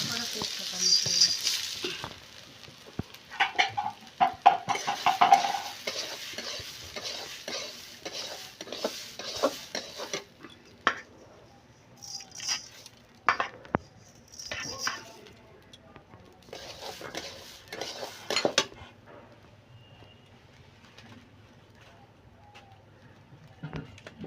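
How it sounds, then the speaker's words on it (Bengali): Gobindobhog rice frying with whole spices (cinnamon, cardamom, cloves, bay leaves) for prawn pulao, a steady hiss from the pan under repeated scraping stirs and clinks of the spoon, with a voice talking at times. "এখন আমি ভালো করে ভেজে নেব চালটাকে।"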